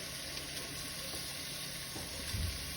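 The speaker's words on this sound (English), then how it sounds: "here a pound of ground beef, and we have half a pound of ground pork. Going to go right into with the bacon." A pound of ground beef and half a pound of ground pork sizzle with bacon in a pan, making a steady, close frying hiss with a faint stir near the end.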